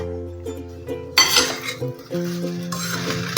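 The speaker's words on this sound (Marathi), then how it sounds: "अजून एकदा असं हलवून घेऊया" A spatula stirs cucumber poha in a pan, producing scraping and metallic clinks with a light sizzle underneath, while a steady tonal hum runs in the background.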